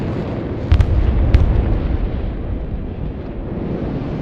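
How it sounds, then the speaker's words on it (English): Ballistic missiles striking in the war game Broken Arrow, a heavy continuous rumbling roar of explosions with a couple of sharper blasts early on, loud and close throughout. "Ballistic missiles incoming!"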